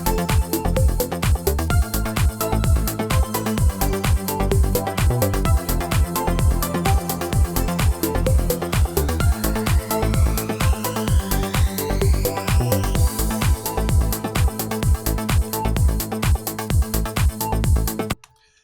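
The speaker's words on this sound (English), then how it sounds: "Now I have two synths playing the same thing." Two synthesizers play the same melody in unison over a steady driving beat, dense and loud throughout, ending abruptly.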